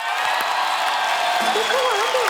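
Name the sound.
audience applauding to welcome a rapper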